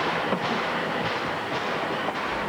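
A steam locomotive works up a switchback grade in full reverse, giving a steady close rumble with rhythmic chuffs and rail clatter and no voices.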